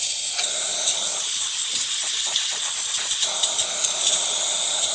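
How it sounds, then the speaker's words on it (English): DeLonghi Magnifica XS espresso machine releasing steam from its wand after a pressure repair, a steady close, loud hiss with faint rattling underneath, continuous throughout. "Nice steady steam coming out of the machine."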